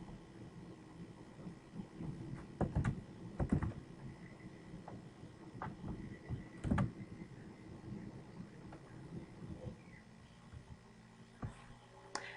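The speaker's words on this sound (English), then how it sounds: "So now I'm going to type that in my calculator" Fingers tapping the keys of a calculator while working a trigonometry problem: scattered, fairly faint clicks in irregular bursts over low background hiss, with no talking.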